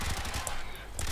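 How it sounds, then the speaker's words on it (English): Pistol shots fired in the Warframe video game, a few quick sharp reports in a brief, dense burst over steady game background, close and loud. "These pistols. Love these pistols."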